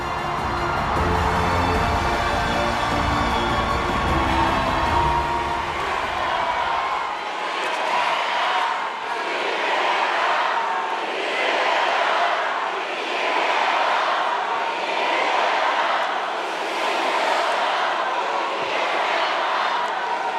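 Large crowd at a South Korean presidential primary campaign rally cheering and clapping loudly and continuously, swelling in rhythmic waves of applause and shouts after an announcer's voice fades out.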